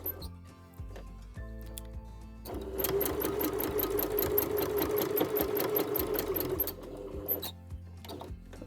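A sewing machine stitches down the side seam of a cloud flower quilt, its needle whirring in a steady, close run of about four seconds between quieter handling sounds.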